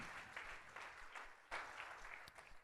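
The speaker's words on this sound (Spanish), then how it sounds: "Denle un aplauso al Señor Jesús" A church audience applauds for the Lord Jesus, a faint, distant patter of many hands clapping in uneven waves.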